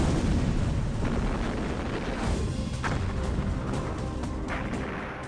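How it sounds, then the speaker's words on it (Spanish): A detonation used in explosion welding, joining two metal pieces, comes as a sustained rumbling roar with several sharp cracking bursts inside it, loud and close, slowly fading toward the end. "Así comienza la explosión, que atraviesa toda la superficie uniendo las dos piezas."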